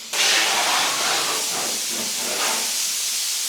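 Compressed air blasts steadily across a car's front end being readied for black epoxy primer, a loud, close, continuous hiss that starts abruptly and holds for several seconds.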